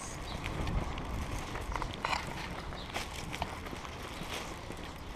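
Footsteps walking outdoors during morning rush hour in Tokyo, a steady stride of light steps over rumbling background noise from the surroundings.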